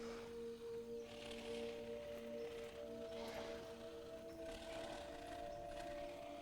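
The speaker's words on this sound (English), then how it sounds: "what a spider sounded like" Eerie steady tones drone beneath repeated raspy, clicking sleeping-spider noises from the video game Grounded that swell and fade in slow waves, continuous with no talking.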